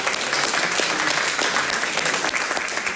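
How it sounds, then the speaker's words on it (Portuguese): Steady, loud applause from a church congregation fills the space for a few seconds, dense and continuous with no voices on top. "Dê um aplauso a Jesus, amém?"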